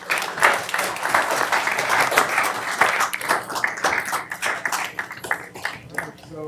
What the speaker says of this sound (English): How about a round of applause for Rios?